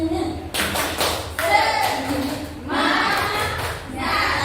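An audience does 'tepuk semangat' rhythmic clapping, loud bursts of group clapping in a patterned rhythm, with voices mixed in.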